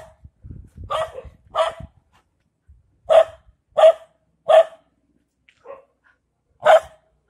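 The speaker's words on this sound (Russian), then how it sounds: "Это мама с сыночком, она его учит на меня гавкать." Two dogs, a mother and her pup, bark outdoors in a series of sharp, separate barks, a couple of quick ones, then a louder spaced run of about four more, fairly close by.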